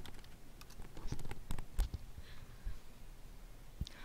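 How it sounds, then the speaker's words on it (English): Fingers tap out an email address and password on a computer keyboard, an irregular run of light close clicks and keystrokes with short pauses, no one speaking. "Do your email and your password. Helps if you type your password right."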